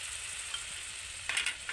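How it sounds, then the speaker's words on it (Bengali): Butter melts in a pan, giving a soft, quiet sizzle and crackle with a brief brighter burst of frying near the end. "বাটারটাকে এইভাবে গলিয়ে নেব"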